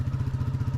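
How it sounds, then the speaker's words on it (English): A Royal Enfield Classic 350 motorcycle engine thumps steadily at a low, even beat, close and fairly loud with no voices over it. "I'll leave this with a bit of a engine soundtrack up to the high street."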